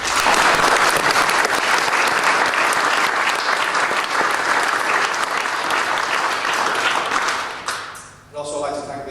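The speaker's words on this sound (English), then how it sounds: "I'd like to give the players a big round of applause for their achievements." A large audience gives sustained, loud applause for rugby league players at a Hunslet Hawks civic reception, dense clapping holding steady for several seconds before dipping briefly and resuming near the end.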